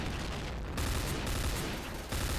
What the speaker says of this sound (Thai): ถ้าเรายิงอ่ะอ่ะ มันจะได้ทีละสามนัด แล้วมันก็จะหยุดเนี่ย